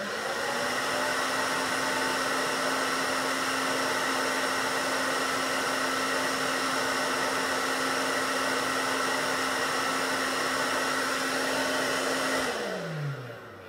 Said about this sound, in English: let's turn on the hairdryer